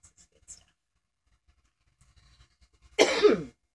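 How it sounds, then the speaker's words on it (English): A single loud cough bursts out near the end, preceded by a few soft faint rustles and taps in otherwise quiet surroundings. "I cough a lot."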